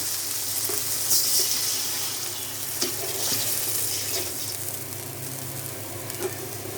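Garlic fries in a pan for a pointed gourd and rohu fish curry, a close, continuous sizzle with occasional light stirring taps and a brief louder hiss early on.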